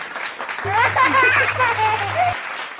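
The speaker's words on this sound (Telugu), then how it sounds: "మళ్ళీ జీవులన్నీ ఆనందంగా క్లాప్స్ కొట్టాయి" Applause effect from a cartoon audio story about forest animals clapping joyfully, played as a steady burst of clapping for about two seconds with a low hum, under a narrator's ongoing storytelling voice.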